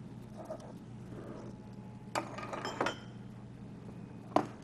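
Dishes and metal muffin tins clink sharply a few times in a quiet kitchen while cheese quiche batter is poured into the tins, the isolated clatters spaced apart over a soft background hum.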